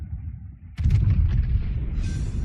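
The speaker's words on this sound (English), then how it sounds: "The Montana seems to have given up and is just firing high explosive right now" Battleship guns in a naval video game, the Montana firing high explosive shells: one heavy booming salvo after a quiet rumble, followed by a lingering roar and hiss.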